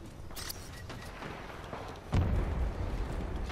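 Grenade blasts in the shooter game Titanfall 2, a dull heavy boom landing midway that rumbles on under continuous gunfire-like clatter and battle noise.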